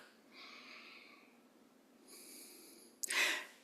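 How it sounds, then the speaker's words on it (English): Slow, deep breaths during a guided meditation, heard as two soft, drawn-out exhales followed by a sharper, louder breath near the end, all close and quiet with no talk. "And keep breathing deeply."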